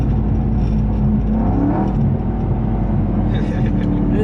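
A 900 whp Whipple-supercharged Ford Mustang GT spinning its tires, heard as a loud continuous engine roar and rumble from inside the car while people talk over it.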